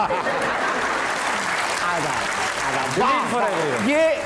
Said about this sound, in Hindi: ये जिसने ताली बजाई है ना